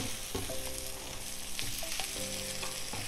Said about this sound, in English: I can go straight in now with my salami. And that's just going to give everything a massive hit of flavor and it's going to add some color to the pan.